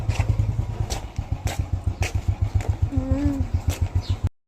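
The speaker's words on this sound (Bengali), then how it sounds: "এক্ষণে বাইক দিয়ে রওনা দিলাম" A motorcycle engine runs close by with a steady, rhythmic low putter as the bike sets off, keeping an even throb for several seconds before cutting out.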